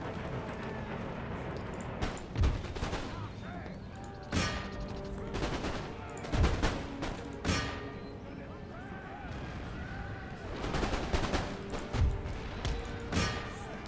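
Musket volleys crackle across a battlefield in the Empire Total War strategy game, with repeated sharp ragged bursts of massed gunfire and thumping shots recurring every second or two over a constant din of battle.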